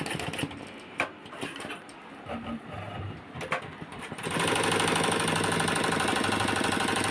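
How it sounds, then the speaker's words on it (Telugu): An embroidery machine runs at a steady, fast mechanical chatter that starts partway through and keeps going evenly. Softer clicks and handling sounds come before it, with no talking. "మిషన్ అయితే ఇలా ఉంది చూడండి, ఎంబ్రాయిడరీ మిషన్."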